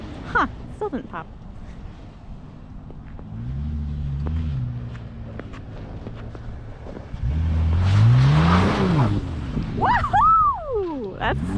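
A 2021 Nissan GT-R's engine revs up and falls while the car does a donut in snow, with rising and falling engine tones swelling loud near the end and voices talking over it.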